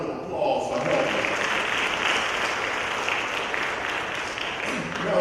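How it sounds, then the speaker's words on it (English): Students at a superintendent's student advisory council meeting give themselves a round of applause: a steady, fairly loud wash of clapping from a roomful of people, with some voices mixed in throughout. "So give yourselves a round of applause for helping."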